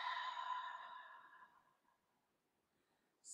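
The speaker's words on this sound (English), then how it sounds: "So a big breath in and slowly out." A deep, slow breath is let out in a long, soft exhale that fades to near silence, followed by a brief airy intake of breath at the end.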